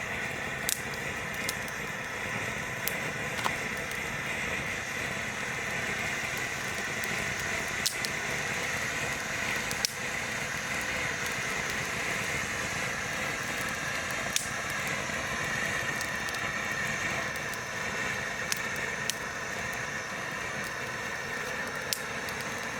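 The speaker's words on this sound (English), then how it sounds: "You can hear those twigs cracking away." Twigs crackle in a burning campfire built from damp wood giving off intense heat, sharp irregular pops and snaps scattered over a steady hissing roar, close and continuous throughout.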